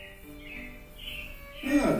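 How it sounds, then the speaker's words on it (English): Robins chirp and sing as a sound effect in Disney's Carousel of Progress at the Magic Kingdom, with thin, high tweets over a soft background and a louder burst of sound at the end. "it looks like the Robins are getting ready to celebrate Valentine's Day today"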